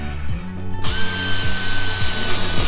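A power drill bores out rivets in the floor of a long-wheelbase Mercedes Sprinter van. The motor spins up to a loud, steady whine, and the pitch dips several times as the bit bites into the metal. Nobody speaks.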